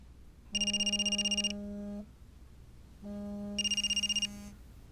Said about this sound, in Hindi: तुम्हारे घर से फोन आ रहा है?